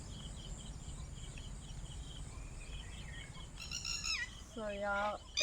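Sparrows and other birds call and chirp among farm fields in the early morning, with steady insect-like buzzing throughout and a few clearer bird calls near the end over a low rumble.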